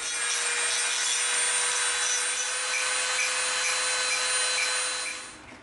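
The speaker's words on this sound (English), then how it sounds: "Let's sharpen it up with our Dremel." A Dremel rotary tool grinds steadily against EVA foam, a bright, continuous close whine holding level for several seconds before tapering off as it stops.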